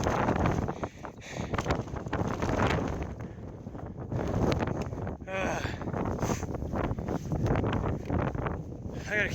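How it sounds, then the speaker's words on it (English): Strong wind buffets the microphone on an exposed Appalachian Trail mountain in cold weather, a loud continuous roar and rumble that runs throughout, with a hiker talking over it. "It's so windy. It's literally blowing me over even with a small pack."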